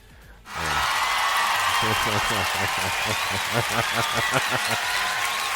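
A crowd at a Monday night hockey game breaks into loud, sustained cheering and applause that swells in suddenly after a brief quiet moment, with voices talking over the din.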